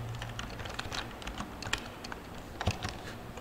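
Rapid, steady keystrokes on a computer keyboard as a short command is typed at a Windows command prompt, close and fairly quiet, with a slightly heavier press near the end like the Enter key, no speech.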